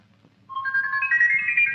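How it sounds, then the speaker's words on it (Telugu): A mobile phone ringtone starts suddenly and plays a bright, steady electronic melody that continues to the end, loud and close, with faint low background noise before it begins. "ఏయ్ నీ ఫోన్ రింగ్ అవుతుంది."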